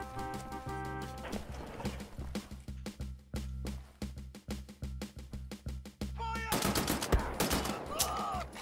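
Assault rifle fire in Wolfenstein: The New Order pounds out in quick, evenly spaced shots over a low game soundtrack, ending in a louder, busier stretch of shooting and impacts.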